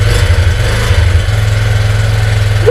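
A Yamaha YBR 125 motorcycle engine runs steadily, a loud close low-pitched drone that holds even and continuous throughout, with no talking.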